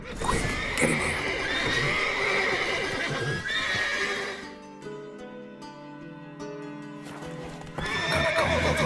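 Horses in The Witcher 3: Wild Hunt whinny and neigh loudly over clip-clopping hooves, then a quieter stretch of musical tones before another burst of neighing at the end.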